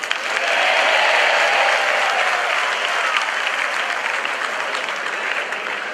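A large audience claps steadily in a hall, a dense, loud wash of applause that holds evenly throughout without any voices on top.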